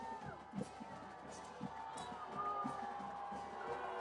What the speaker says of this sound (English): that crowd ain't too happy with that ref